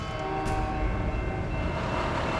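A train rolls past with a steady rumbling drone and tonal horn-like hum, close and continuous throughout, with no talk over it.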